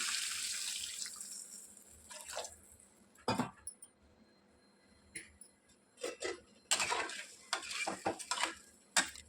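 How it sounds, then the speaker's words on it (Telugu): Water goes into a pan of cooked masala for street-style gobi manchurian, with a soft faucet-like flow at the start, then intermittent splashes, stirring and metal utensil clinks, fairly quiet, with no voices. "ఇప్పుడు ఇందులో వాటర్ వేసేసుకుందాం."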